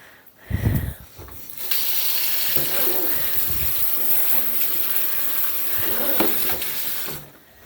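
Tap water gushes steadily into a sink as a gallon jug is rinsed, a close continuous splashing flow that starts after a couple of knocks and stops abruptly near the end.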